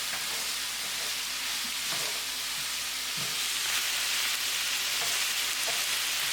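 Green and red bell peppers sizzle with onions in a hot pan, making a loud, steady frying hiss broken by occasional stirring clatters, with no voices.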